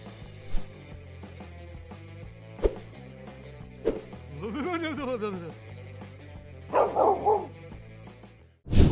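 A playful new dog at bedtime gives a few sharp, close barks and yips with some whimpering, scattered across a stretch where a narrator speaks over background music.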